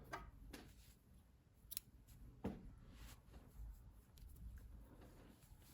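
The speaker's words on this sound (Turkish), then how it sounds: "Bu ipliği kesiyorum." Scissors snip through yarn during crochet work on a baby vest, a few faint separate clicks and cuts spread over a quiet background, with no talking.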